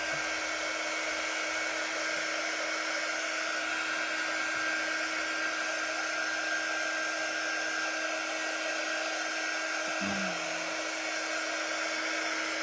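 A handheld dryer whirs continuously at a steady high pitch for the whole stretch, loud and close, with no voices.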